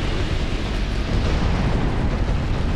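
Explosion in the video game Dark Souls 2 (Scholar of the First Sin DLC), a dense, loud, continuous rumbling blast filling the whole moment without pause or voices.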